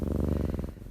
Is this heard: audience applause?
no